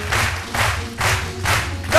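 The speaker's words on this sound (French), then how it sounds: "que je vous demande d'applaudir" TV studio audience clapping on a midday talk show as a doctor is welcomed onto the set, the applause swelling in regular bursts, fairly close and loud, with no talking over it.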